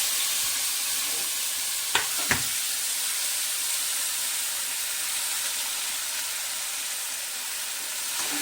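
Coconut and onion paste frying in hot oil for a South Indian-style bagera begun (brinjal) dish gives a steady close sizzle and hiss, with two sharp clicks near the start and no voices.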